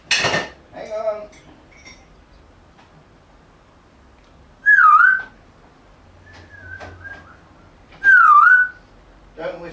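An African grey parrot whistles in a kitchen, giving two loud, clear, sliding whistles a few seconds apart, with fainter chirps and clinks of dishes and cutlery between them.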